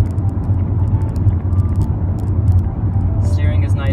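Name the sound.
2004 Volkswagen Golf driving at cruising speed on freeway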